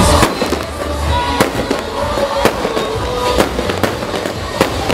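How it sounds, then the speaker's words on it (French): Fireworks at a festival finale crackle and pop in repeated sharp bursts over a rumbling background, some blasts louder and nearer than others, irregularly spaced throughout. "ce festival en beauté qui s'est terminé par des feux d'artifice"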